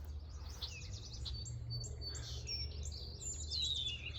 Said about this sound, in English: I'm grateful for the birds chirping